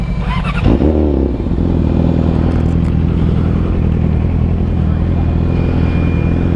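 Yamaha R6 and Ninja 400 motorcycles ride through downtown Greenville, SC, a loud, steady engine rumble that rises sharply around the first second, with a rider's voice over it.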